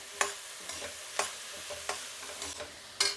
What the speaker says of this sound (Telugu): దీన్ని ఒక 5 నిమిషాలు బాగా ఫ్రై చేసుకుందాం